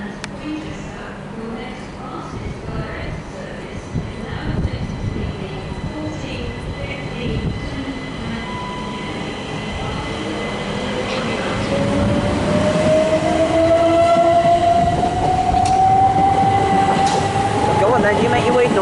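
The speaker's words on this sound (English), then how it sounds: "now about to make its way out will be 377466, which will be forming the 1419 Southern service to Brighton" A Southern class 377 electric train pulls out of Southampton Central station, its motor whine rising steadily in pitch as it accelerates, with platform ambience and faint voices in the background.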